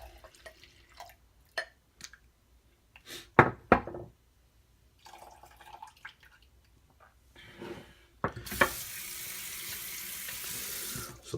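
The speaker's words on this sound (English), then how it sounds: "I'm gonna pour my bloom water into my mug." Water poured from a shaving puck's blooming into a mug, with scattered clinks and knocks first, then a loud, steady close-up rush of pouring water for the final few seconds.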